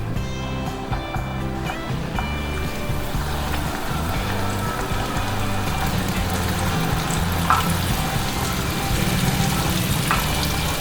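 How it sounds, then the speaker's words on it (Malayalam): Crumbed chicken pieces deep frying in hot oil until golden brown: a loud, continuous, even bubbling sizzle with a low rumble beneath it, close up and without speech. "നല്ല ഗോൾഡൻ ബ്രൗൺ നിറമാകുന്നിടം വരെ ഫ്രൈ ചെയ്തെടുക്കണം"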